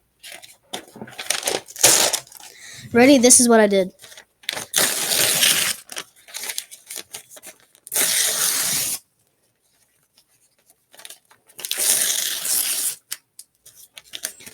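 A sheet of paper being crumpled up by hand, heard as several bursts of dry crackling and rustling separated by short pauses, alongside a brief spoken line.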